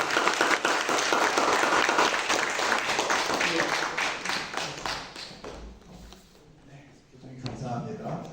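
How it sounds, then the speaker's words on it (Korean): Audience applause fills a Korean community anniversary gathering, dense clapping that fades gradually, while a voice talks over the later part. "다시 한번 박수로"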